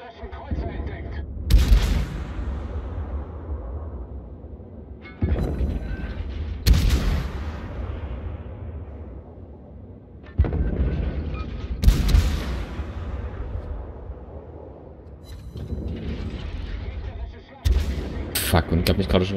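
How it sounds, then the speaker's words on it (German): Naval gunfire in the World of Warships video game, heard as a series of heavy booming salvos every few seconds, each with a rumbling tail, while players talk in German over the battle. "Wir sollten vielleicht auch einfach mal schießen, damit sie brennt."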